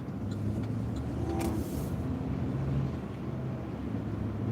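A car drives on a snowy road during the first snowfall of the year, giving a steady, loud engine and road rumble with low tonal hums and a brief higher whine partway through, with no talking.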